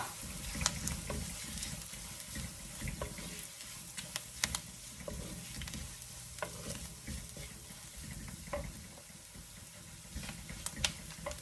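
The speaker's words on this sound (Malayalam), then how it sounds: "അത് ഒന്നിങ്ങനെ ഇളക്കി കൊടുക്കുക" A spoon scrapes and stirs mushroom thoran with desiccated coconut in a hot pan, giving irregular clicks and knocks over a steady low sizzle, close and alone without speech.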